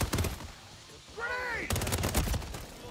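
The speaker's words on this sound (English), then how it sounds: "Yeah, they're just constantly shooting." Gunfire in Modern Warfare 3 rattles in dense automatic bursts, loud and close, with short pauses between volleys and a brief tonal sweep in the middle.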